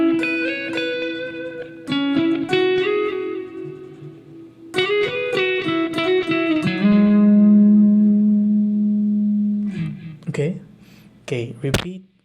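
Electric guitar licks played slowly and repeated, bright picked notes with slides and a long sustained bend, reverb-soaked and close; someone speaks briefly near the end.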